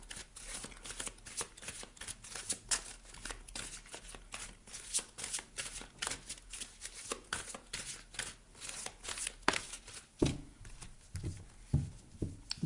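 Oracle cards, Lise Bartoli's light cards, are shuffled by hand in quick, crisp riffles and soft slaps, close and fairly quiet, with brief pauses between bursts.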